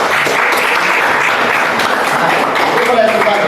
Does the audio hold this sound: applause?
yes